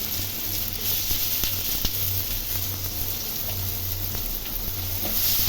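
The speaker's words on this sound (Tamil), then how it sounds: "எண்ணெய் விட்டுக்கிட்டு இதில் வந்து ஒரு வெங்காயம் போட்டுக்கலாங்க" Chopped onion fries in oil in a pan, giving a steady, close hiss of sizzling with scattered small pops, heard alone with no voices.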